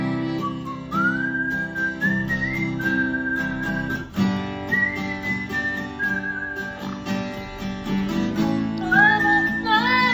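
A man whistles a melody along with his own guitar playing, a clear sustained tune with sliding notes over strummed chords, close and prominent.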